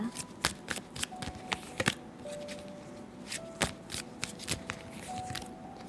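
Tarot cards being shuffled, with crisp riffling bursts and scattered sharp taps and flicks of cardboard against cardboard, close and fairly quiet, with no talking.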